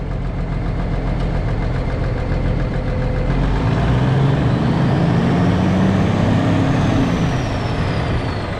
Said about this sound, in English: I'll go and rev it up.